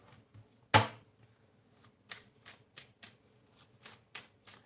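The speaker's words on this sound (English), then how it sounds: "I'm going to start shuffling your cards, Ami." Tarot cards being shuffled by hand, heard as one sharp slap followed by a steady run of light, evenly spaced riffling clicks, close and quiet with no talking.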